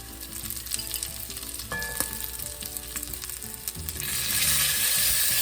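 Minced garlic sizzles in a pan with bacon and onions for pinto beans, a steady close frying hiss with light stirring clatter that swells louder and brighter toward the end, with no talking.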